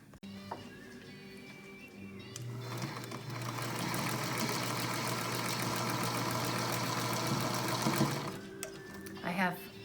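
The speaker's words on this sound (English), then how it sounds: "now I can sew those two together" A sewing machine stitching quilt top pieces together runs in a steady, fast mechanical whir for several seconds, close and clear. Brief handling noises come at the start and end, with a short vocal sound near the close.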